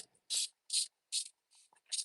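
Five quick hissing squirts of water from a spray bottle onto an acrylic painting in an uneven rhythm, soft and close, with silence between them.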